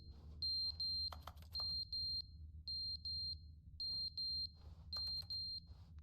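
Repeating electronic alarm beeps from The Stanley Parable Ultra Deluxe, shrill tones in regular bursts of several quick beeps with short gaps, loud and close over a low background hum, no talk.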